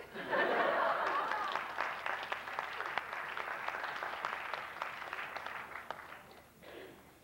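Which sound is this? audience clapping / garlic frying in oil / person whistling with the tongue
audience clapping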